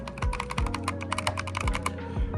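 Rapid clicking keystrokes on a modded MAGEGEE computer keyboard, a fast steady patter close up, with a low rhythmic thumping underneath.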